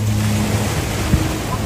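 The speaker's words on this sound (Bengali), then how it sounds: "ঢেউ হইতেছে" Ocean surf at Hulhumale beach in the Maldives, heard as a steady, close broadband wash of breaking waves with a low droning hum running beneath it for under two seconds.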